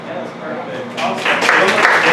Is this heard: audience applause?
yes